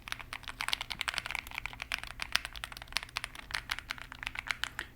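Rapid fingers clatter across a computer keyboard, a dense stream of crisp, close keystroke clicks in irregular bursts with no talking.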